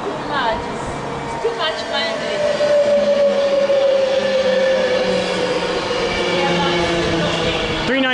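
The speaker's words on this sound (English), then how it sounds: "390/045 with a service to Manchester Piccadilly. Virgin Pride." A Virgin Class 390 Pendolino, unit 390/045, passes through Milton Keynes Central station on a service to Manchester Piccadilly. A steady rumbling roar is joined by a rising and falling electric whine and occasional squeals, with voices talking over it.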